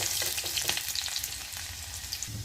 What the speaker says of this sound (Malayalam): വെളിച്ചെണ്ണ ചൂടായി വരുമ്പോൾ നമുക്ക് കടുകിട്ട് പൊട്ടിക്കാം.